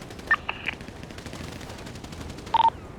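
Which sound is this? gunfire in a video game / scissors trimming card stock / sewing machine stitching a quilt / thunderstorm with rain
gunfire in a video game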